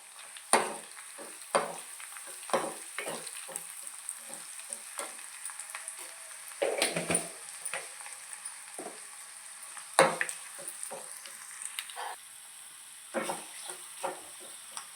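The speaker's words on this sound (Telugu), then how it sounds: "తాలింపు వేగిపోయిందండి" Garlic, cumin and dried red chillies fry in hot oil as a tempering for dal with raw mango, giving a soft, continuous close-up sizzle broken by sharp, irregular scrapes and clacks of stirring.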